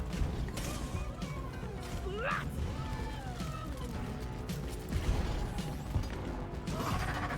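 A steady mechanical whir and grinding drone of a drill vehicle in Deep Rock Galactic runs throughout, with rising and falling whines sweeping over it and occasional clanks.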